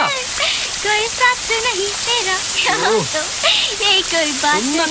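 Steady rain falls in a Tamil action film scene, its constant broadband hiss running beneath voices talking throughout.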